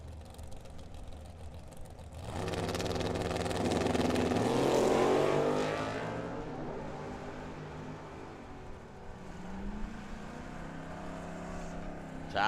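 A 1968 Camaro and a Plymouth Duster drag racing at Firebird Raceway in Phoenix, a loud engine roar building fast and then fading as the cars pull away, with a lighter engine drone trailing at the end.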